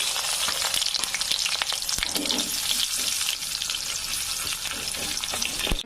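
Chopped onions hit hot oil already tempered with cumin and whole garam masala, giving a loud, continuous close sizzle with occasional stirring clicks throughout.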